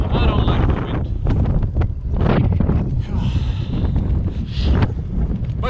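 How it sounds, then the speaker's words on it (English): Strong wind buffets the microphone while cycling on a long-distance ride, a loud continuous roar with gusting rustle, close and steady throughout. "the wind just takes you and throws you around"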